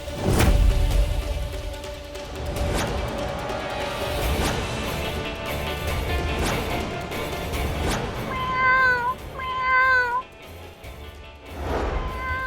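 A cat meows repeatedly in an office setting, several clear drawn-out calls, the loudest cluster near the end, over a busy background of clattering and room noise with no speech.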